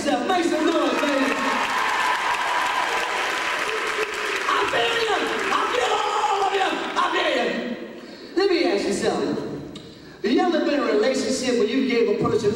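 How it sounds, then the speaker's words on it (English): Women in a comedy show audience clap and cheer for themselves in a loud, sustained wash of applause. It dips and swells with brief pauses, and a voice is heard over part of it. "Ladies, clap for your damn self. Make some noise, ladies."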